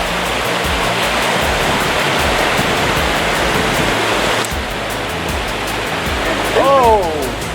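Steady, loud rushing water of the Upper Rogue River fills the whole stretch, a continuous broadband flow close by, with a brief shift partway through.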